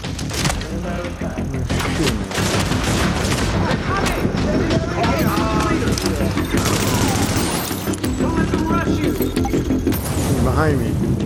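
Dense, rapid gunfire and booming blasts fill an underground mission in The Division video game, loud and nearly continuous, with a player talking over the shooting.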